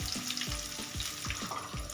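Rapid, crackling sizzle of finely chopped onions and fennel seeds frying in hot oil for chicken gravy, steady and close, with soft rhythmic scraping or stirring about every quarter second.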